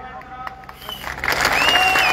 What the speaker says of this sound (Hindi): जोरदार तालियां नाल सचिन पायलट जी का स्वागत।